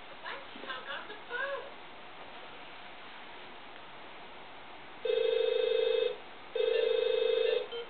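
After a brief voice, a cell phone rings loudly with two steady electronic tone bursts about a second long each, separated by a short pause.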